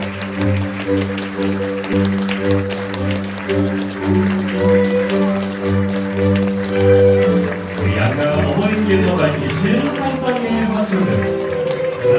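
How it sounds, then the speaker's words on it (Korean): Wedding guests applauding at a wedding hall as both mothers walk in, a sustained wash of clapping mixed with crowd noise while a host talks over it. "그 수고하신 만큼 큰 박수와 화로성 부탁드리겠습니다"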